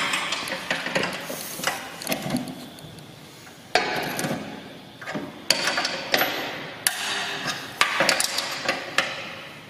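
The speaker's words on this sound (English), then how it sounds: "we need a 17mm spanner and a 17mm ratchet to undo the rear bolt that holds the tension" A 17mm ratchet loosens the rear tension bolt on a Chapman paddock topper, giving rapid metallic clicking in repeated bursts with short pauses between strokes, close and moderately loud.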